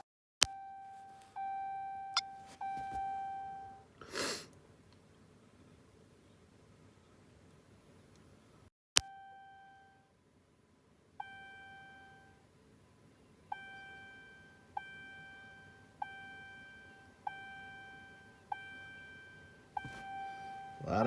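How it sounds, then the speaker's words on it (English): Chimes ding inside a Ram truck with the ignition on and the engine off, repeated electronic tones, a few early rapid ones, then a steady series of single dings after a brief gap, faint over a quiet cab. "A lot of dinging going on here."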